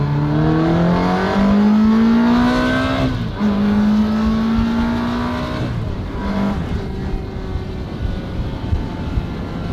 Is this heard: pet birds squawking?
no